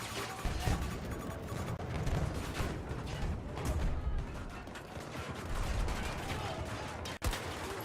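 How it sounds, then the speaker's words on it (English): Video game gunfire crackles in dense, overlapping volleys that resemble rapid automatic fire, filling the whole stretch with steady battle noise and no break. "I'm hearing a lot of gunfire."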